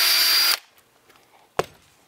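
A power drill with a 7/64 bit bores a screw hole through an Edea figure skate sole, a loud steady whine for about half a second, then quiet with a single sharp knock.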